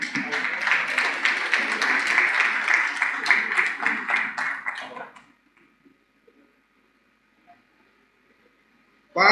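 Rapid, dense applause from an audience at a Rotary installation ceremony, fairly close and loud, lasting about five seconds before cutting to near silence, with a brief burst of sound at the very end.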